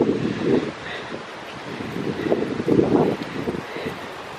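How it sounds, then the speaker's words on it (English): Heavy wind buffets the microphone in rumbling, uneven gusts, a roaring rush that swells and fades with faint voices underneath. "It's so windy out here. Sorry about the noise of the wind."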